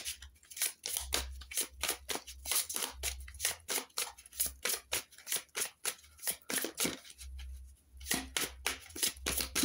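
Tarot cards are riffled and shuffled in the hands, a rapid, close run of crisp flicking and snapping strokes that continues almost without pause, with a few brief gaps.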